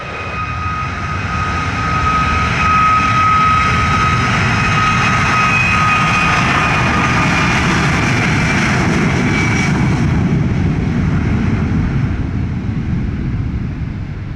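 A United airliner jet takes off on runway 25, its engines producing a loud, continuous roaring rumble with a steady high whine that swells and carries on for the whole stretch, with no talk.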